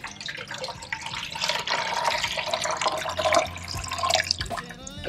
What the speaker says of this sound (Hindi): बस पानी भरना है